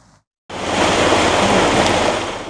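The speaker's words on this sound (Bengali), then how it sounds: "একদিকে দমকা হাওয়া অন্যদিকে গুড়িগুড়ি বৃষ্টি সকাল থেকে রাজধানী জুড়ে এমন আবহাওয়া দৃশ্যমান" Gusty wind and light drizzle over the capital city make a loud, steady broadband roar that starts abruptly after a short silence and holds for a couple of seconds.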